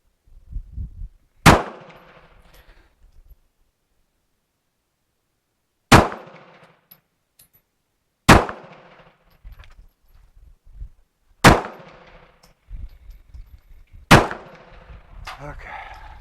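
Five loud, sharp 9mm Luger pistol shots from Turkish-made BPS ammunition fired at a shooting range, spaced irregularly a few seconds apart, each a near crack with a short echoing tail and quiet gaps between.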